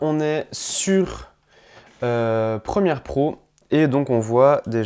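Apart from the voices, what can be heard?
No everyday noises stand out.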